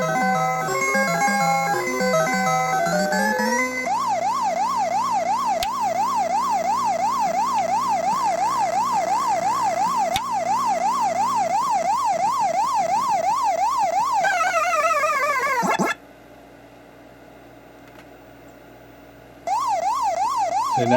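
Super Pac-Man arcade game running on a repaired circuit board, playing loud electronic jingles followed by a long warbling siren-like tone that pauses briefly and resumes, bright and synthetic with no talking.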